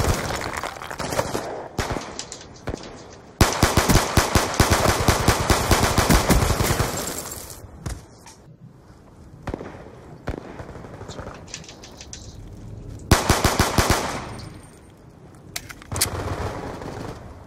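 Gunfire in Call of Duty Black Ops 2 comes in loud rapid bursts of close shots separated by quieter gaps, with a few isolated single cracks and occasional low game sounds between volleys.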